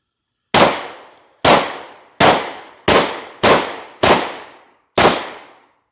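Seven loud, sharp gunshots from a German P.08 Luger pistol at an outdoor range, fired one at a time at a steady, slightly irregular pace. Each report is close and ends in a short decaying echo, with no talking.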